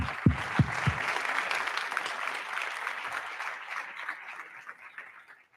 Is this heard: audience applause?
yes